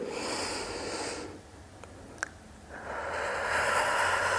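Deep breathing during a pelvic floor workout: a long, airy inhale, a brief pause, then another slow, steady breath, close and fairly soft.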